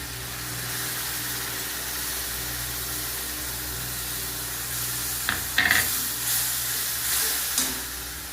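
Whisked sour yogurt added to fried spice paste for a rohu fish curry, sizzling steadily in the pan with a hissing fry, then a few louder bursts of spatter and stirring near the end.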